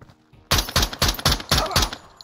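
A video game shooter firing a rapid burst of six loud, close gunshots in quick even succession after a brief quiet start, with no talk.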